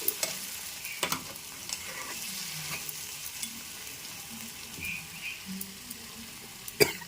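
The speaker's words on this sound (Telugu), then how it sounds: "చూసారా చక్కగా ఈ విధంగా తాలింపు పెట్టుకోండి" Oil sizzles steadily as spices fry for tempering a ridge gourd chutney, with occasional sharp clicks and scrapes of a spoon stirring the pan. No voices.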